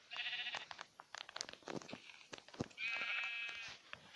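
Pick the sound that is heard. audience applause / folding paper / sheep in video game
sheep in video game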